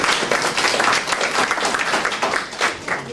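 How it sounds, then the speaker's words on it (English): An audience at a ceremony gives a dense, steady round of applause, many hands clapping at once and filling the room for a few seconds. "Je voudrais qu'on applaudisse."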